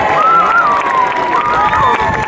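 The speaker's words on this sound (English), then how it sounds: "can have a huge cheer for all the guys and girls that have put this together for me today" A crowd at an outdoor police dog show cheers and claps loudly, with high excited shouts and whoops, some from children, rising over a dense roar that stays close and energetic throughout.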